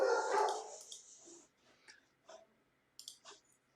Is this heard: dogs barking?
yes